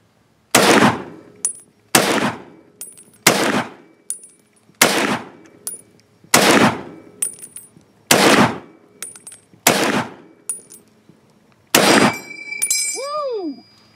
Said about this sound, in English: We're going to do some more shooting.